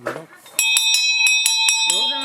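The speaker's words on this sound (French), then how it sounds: "on a le kiosque d'entrée et on sonne la cloche" An entrance kiosk bell at a riverside site is struck repeatedly, ringing loud and close in a quick series of clear metallic strikes after a brief spoken voice.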